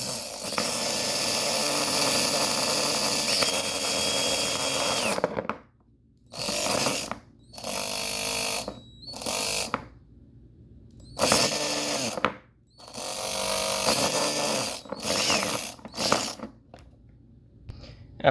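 A geared RC car motor drives a repaired electric ratchet that runs in loud mechanical whirring bursts. It starts with one long run, then spins in several short spurts separated by silent gaps.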